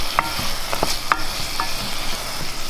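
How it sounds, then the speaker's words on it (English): Steady, close sizzling of food frying in a pan, with a few light clinks of stirring scattered through. No one talks. "And now this is starting to sizzle."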